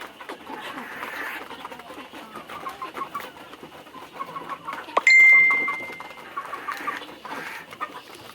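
Soft clucking and murmuring of Sonali and local country chickens eating on a rooftop, with light pecking sounds, plus a brief sharp squeak partway through.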